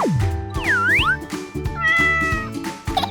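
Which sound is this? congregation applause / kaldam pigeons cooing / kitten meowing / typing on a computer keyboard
kitten meowing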